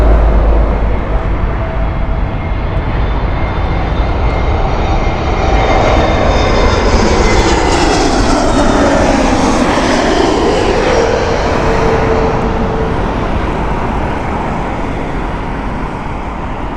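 A British Airways Airbus A320neo passes at Heathrow, a loud jet roar with a sweeping whine that rises and falls as it goes by close overhead, then eases off slightly, with no speech.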